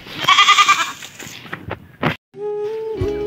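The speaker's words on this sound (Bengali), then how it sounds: "আমার ছাগলটা তো কনে গেল" A goat bleats loudly and close, a wavering cry followed by short clattering noises, then a steady tonal sound runs through the second half.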